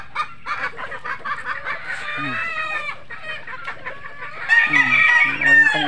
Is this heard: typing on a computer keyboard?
no